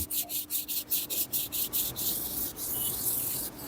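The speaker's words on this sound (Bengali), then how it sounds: "অল্প অল্প জায়গায় আমি চেপে চেপে এইভাবে ঘষে নিচ্ছি" A brass plate is scrubbed with cleaning powder, pressed and rubbed in small patches, giving a steady rhythm of quick, close abrasive strokes, fairly quiet, with no talking.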